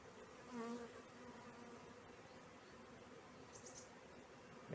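Honeybees buzzing steadily during an early-spring hive inspection of colonies and their stores, a close, continuous drone with no voices heard.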